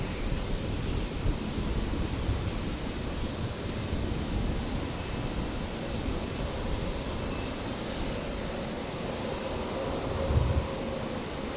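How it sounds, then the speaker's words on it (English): Qantas flight 630 from Melbourne comes in to touch down on runway 19 left, a steady, wide jet rumble that holds fairly constant throughout, distant and unbroken by speech. "Qantas 630 coming in here on 19 left, just about to touch down from Melbourne"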